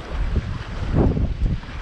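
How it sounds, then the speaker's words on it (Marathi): Warm wind rushing across the open sand of Dhanushkodi beach near Rameswaram, a brief, loud, close buffeting gust hitting the microphone with a low rumble. "वारं तर असं छान लागतं ना गरम गरम."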